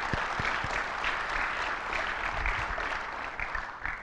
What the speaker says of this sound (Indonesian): Kita berikan tepuk tangan kepada para dewan juri kita.